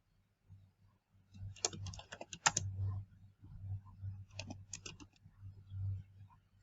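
Question text is typed on a computer keyboard in a quiet room, with soft bursts of quick key clicks separated by brief pauses.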